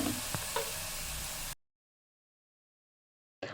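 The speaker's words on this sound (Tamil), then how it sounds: "எல்லாத்தையும் ஒரு டைம் நல்லா மிக்ஸ் பண்ணி விட்டுக்கலாம்" Half a kilo of mutton sizzling and being stirred in a pan for Chettinad mutton kulambu, a steady frying hiss with a couple of scraping strokes, then a cut to silence and a brief return of sizzle.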